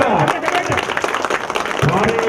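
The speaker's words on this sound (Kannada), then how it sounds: "ಇವೆಲ್ಲ ಅಂಬೇಡ್ಕರ್ ಅವರಿಗೆ ಜೋರಾದ ಚಪ್ಪಾಳೆ ಹೊಡೆಯುವುದರ ಮೂಲಕ" Loud crowd clapping at a village gathering honouring Dr. B. R. Ambedkar in Karehalli, Hosadurga taluk, a dense continuous applause with cheering voices mixed in.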